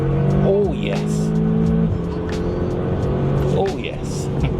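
A modified MK2 Audi TTS accelerates hard, its engine rising in pitch through the gears with a brief dip between, loud and close inside the car while people talk over it.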